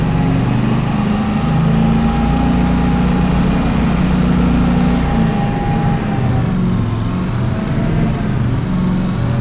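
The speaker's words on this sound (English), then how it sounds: "Pretty fast for a lawnmower." A riding lawn mower with a 3-speed transmission drives along near a building, its small engine droning loud and steady at high revs, the pitch shifting slightly partway through.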